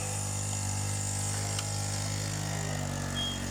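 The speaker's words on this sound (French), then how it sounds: "Voilà le bruit de la Honda Camino" A Honda Camino moped engine idles steadily, a continuous buzzing drone with a faint mechanical rattle and no voices.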